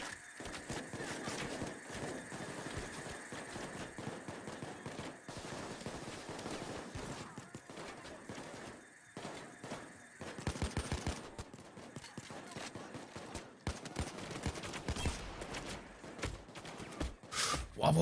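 Bursts of enemy gunfire in the bank-robbery shooter PAYDAY 2, rapid automatic volleys recurring through a busy, fairly quiet game mix with faint background talk.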